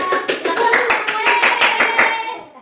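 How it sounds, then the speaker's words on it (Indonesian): Students in a primary maths micro-teaching class clap together in a brisk, even burst of about a dozen close claps, fading out at the end, with no talk over it. "Oke, beri tepuk tangan untuk mereka."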